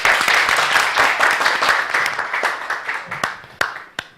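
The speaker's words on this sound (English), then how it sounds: "Please, can we clap for that?" An audience applauds in a dense, steady wash of clapping that thins out into scattered single claps toward the end, fairly close and without talk over it.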